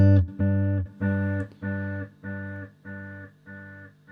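An electric guitar runs through a delay pedal with the feedback turned up, so one plucked note repeats about six times at an even rhythm, each echo slightly quieter than the last.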